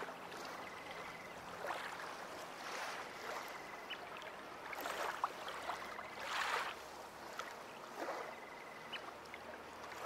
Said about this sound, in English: the sounds of the water caressing the rocks around you